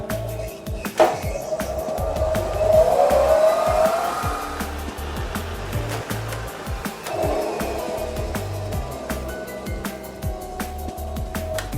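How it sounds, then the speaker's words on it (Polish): A car wheel spun up to 140 km/h on an on-car wheel balancer gives a steady, loud mechanical whir with a rising whine early on, holding at a continuous roar throughout. "Tak samo, rozpędzam do 140 km na godzinę."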